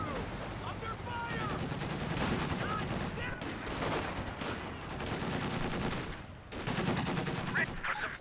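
PPSh and Thompson submachine guns fire in Company of Heroes 2, with rapid overlapping bursts and scattered battlefield shots forming a continuous clatter of combat noise.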